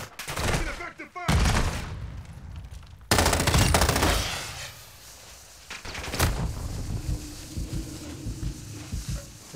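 Gunfire in the shooter game Call of Duty DMZ, loud bursts of automatic fire in long rattling volleys, then scattered distant shots, with voices talking over it.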